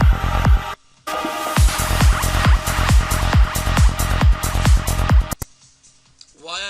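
Psy progressive trance track with a driving four-on-the-floor kick and rolling bassline under bright synth layers, loud and continuous after a brief dropout, then cutting to a quiet tail.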